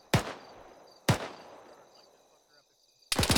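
Suppressive fire in a military shooter game, three sharp loud gunshots spaced about a second apart, each ringing out with a fading echo, heard alone without talking.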